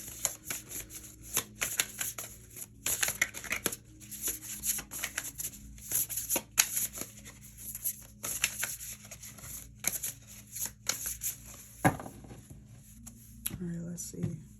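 Tarot cards shuffled and pulled by hand during a reading, a stream of soft papery riffles, slides and taps, close and fairly quiet, with a person speaking in between.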